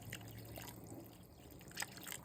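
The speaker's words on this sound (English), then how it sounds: "We're going to add 2 cups of water." Two cups of water poured into a pot holding canned and frozen corn, heard as a faint, steady trickle with a few small splashes throughout.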